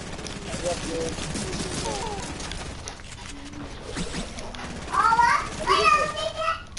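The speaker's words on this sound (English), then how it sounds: "I'm shooting at him" Video game gunfire crackles faintly beneath excited voices of players talking over a busy, noisy game scene.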